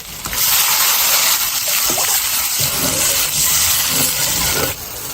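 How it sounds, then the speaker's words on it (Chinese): Water poured into a wok over fried hot pot base with chilli bean paste, aromatics, dried chillies and Sichuan peppercorns, a steady loud rushing gush lasting several seconds with faint sizzling underneath. "炒出火油以后加水"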